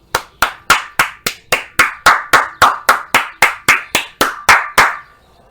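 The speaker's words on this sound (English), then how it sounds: "I'm gonna clap it up for myself." One person claps their hands in a steady, evenly spaced rhythm, about sixteen crisp, close claps in a row with nothing else over them, finishing with a brief fade.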